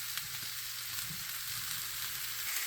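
Breakfast potatoes with onions and peppers fry in a pan, giving a soft, even hiss of sizzling oil that continues unbroken throughout.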